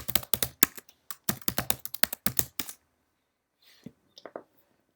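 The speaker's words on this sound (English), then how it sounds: "I should be able to log in as Diana Worth with my Active Directory password." Someone types a password on a computer keyboard. A quick burst of crisp, close keystrokes runs for nearly three seconds, followed by a pause and a few scattered taps.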